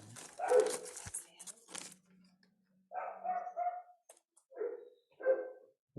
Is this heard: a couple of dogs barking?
yes